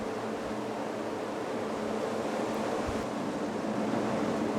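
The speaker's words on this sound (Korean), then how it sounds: "드레이크 해협의 파도." Heavy ocean swell of the Drake Passage, with 6 m waves, churning under a cruise ship bound for Antarctica: a steady, loud, broadband wash and rumble with constant wind noise and no pauses.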